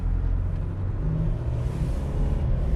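A Nissan NP300 ute pulls away from a standstill at half throttle; a steady, loud low engine drone and road rumble continue throughout without talk.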